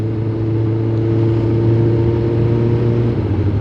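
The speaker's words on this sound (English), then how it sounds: "when you accelerate and then you come to an idle, it doesn't come to an easy idle" A Suzuki GSX 600 motorcycle engine with a slight carburettor air leak, a loud, close, steady drone with hardly any rise and fall and no clear settling to idle.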